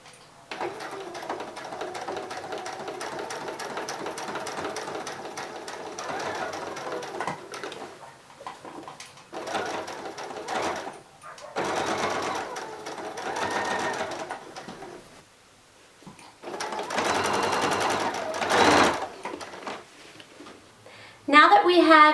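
A sewing machine runs in bursts of rapid, even stitching while lining is sewn to a baby boy's romper in the ditch, with pauses between runs and someone talking over parts of it.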